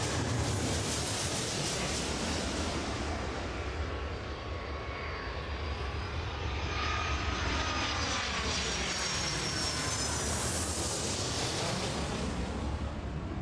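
Aircraft engines roar during a pushback in the Airport Madness World Edition video game: a loud, steady, broadband drone that holds continuously for the whole stretch, with no voices over it.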